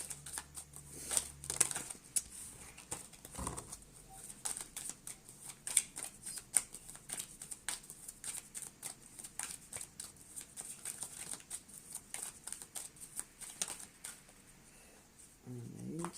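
Oracle cards are shuffled and drawn up close, with soft flicking, riffling and papery slides in irregular bursts, faint and intimate, while a person talks quietly throughout.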